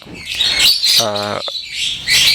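A male lovebird calls close and loud in a burst of sharp, shrill chirps, with a brief buzzy squawk in the middle and no talk.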